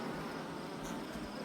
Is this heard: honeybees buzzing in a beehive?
yes